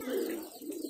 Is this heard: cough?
no